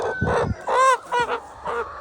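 Free-range hens on a farm give several close, loud squawking and clucking calls in short bursts with brief gaps between them. No one speaks.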